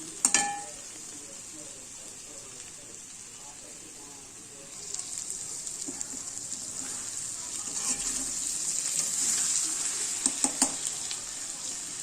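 Water lily stems in a pan are stirred as they fry, giving a faint, steady sizzle. A few sharp clatters of a utensil on the pan come near the start and again toward the end.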